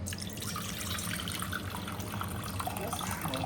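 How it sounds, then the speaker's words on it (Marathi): Water is poured out of a pot of mutton being cooked. A soft, continuous trickling and splashing of liquid is heard close up and fairly quiet, with no speech. "आता आपण काढूया पाणी थोडं"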